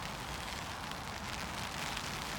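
Rain falls steadily on a tarp shelter during a bushcraft camp, a dense, even hiss of drops without pause and without voices.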